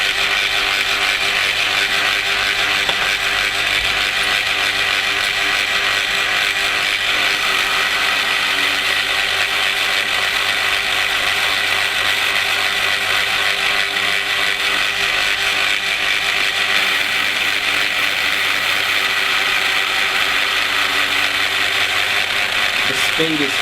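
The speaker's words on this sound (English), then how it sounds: "He's got the appropriate milling tool, milling piece in the milling machine" A milling machine slowly cuts a steel piece held in a small vise, giving a loud, continuous mechanical grinding and whirring that runs without a break.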